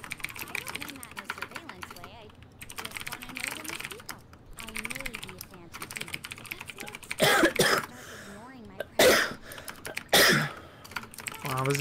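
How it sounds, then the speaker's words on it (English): Several loud coughs or throat clears burst out near the end during a Persona 5 game stream, following a stretch of quiet keyboard typing and faint game sound. "This is turning into a cough stream, huh?"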